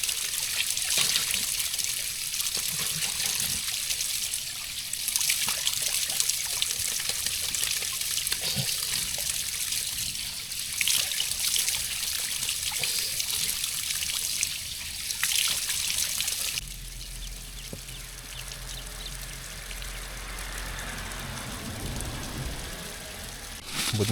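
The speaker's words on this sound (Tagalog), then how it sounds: "May bukal" Clear spring water trickles steadily along a roadside loop near Kaybiang Tunnel, a bright continuous splashing stream that gives way partway through to a lower, rumbling wash with a faint engine-like drone.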